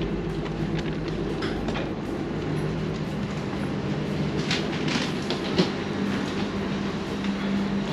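Steady rumble of a train rolling on rails from Tallinn toward Valga, heard from inside the carriage, with faint rhythmic clacks and no voices.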